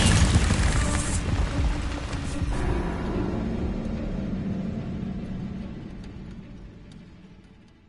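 A fiery Incendio spell bursts in Hogwarts Legacy, a loud whooshing boom that rolls into a long rumbling roar and gradually fades away, with no talking.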